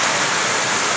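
Heavy rain pours down as a dense, loud, continuous roar of water striking surfaces, steady throughout with no voices.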